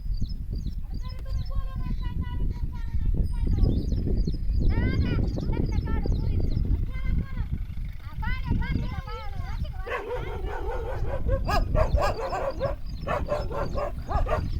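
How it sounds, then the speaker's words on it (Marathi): Dogs bark and yip repeatedly, close by and loud, during a family wedding-related outing in rural Maharashtra, with people talking over much of the barking and the noise of movement throughout. "प्रत्येक ठिकाणी कुत्री स्वागत करतात ताईच"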